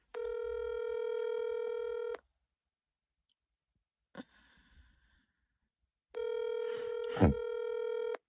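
A telephone rings out with two long, loud electronic ring tones separated by silence, a short click and faint rustling, with a quick breath near the second ring.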